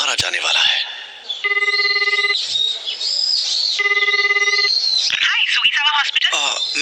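A telephone rings in two evenly spaced electronic bursts between stretches of talking and other sounds.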